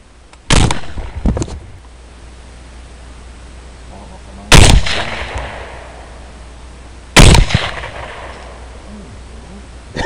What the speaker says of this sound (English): I shot him.